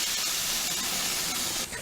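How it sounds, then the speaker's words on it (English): Veggie burger patty sizzling on a grill, with fat dripping into the flames, gives a steady, loud broadband hiss that runs unbroken for the whole stretch with no voices. "Sizzle. Definitely sounds like a burger and even smells like it."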